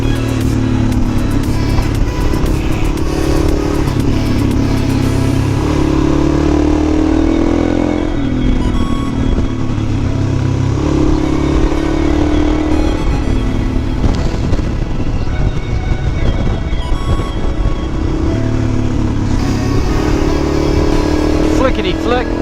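A Suzuki DRZ dual-sport motorcycle engine drones loudly and steadily while riding through curves, its pitch rising and falling with throttle changes, the sound made rougher by wind buffeting.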